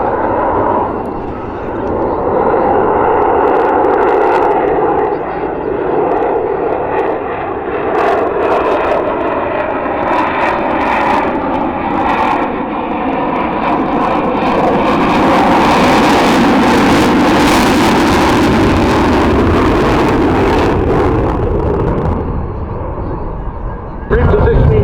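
An F-35 fighter jet performs a slow, nose-high low-speed pass at an air show, its engine roar steady and loud throughout, with a narrator speaking over the sustained rumble.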